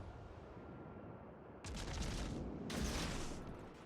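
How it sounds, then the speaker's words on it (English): Torpedoes launched from the Mogami cruiser in World of Warships: two heavy, booming launch blasts, the second a second after the first, rising from a low rumble of naval combat. "So, see if I can launch a few torpedoes here."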